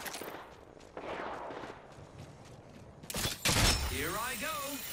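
Gunfire in Apex Legends, with rapid automatic bursts and single shots popping in quick volleys at moderate distance, a louder crack near the end, and a game voice line or chatter woven between the shots.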